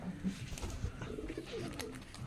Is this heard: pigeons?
yes